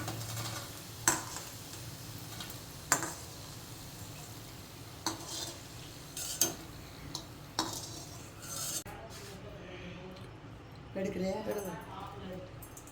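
Bitter gourd is stirred while it roasts in a pan until brown, with scattered sharp metallic clanks of a spoon against the pan over a low frying hiss while someone talks.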